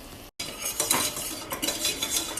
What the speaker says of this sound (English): So just whisking this up, kind of getting the flour mixed in there